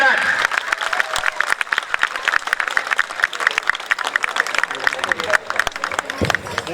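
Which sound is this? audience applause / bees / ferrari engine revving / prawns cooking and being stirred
audience applause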